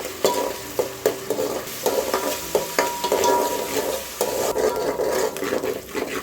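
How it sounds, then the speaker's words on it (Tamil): Onions and green chillies sauté in a pan for a chicken kulambu, a steady close sizzle with repeated scraping stir strokes at an even rhythm, no voices. "இது ரெண்டுமே நல்லா பொன்னிறமாக வர வரைக்கும் வதக்கிக்கணும்"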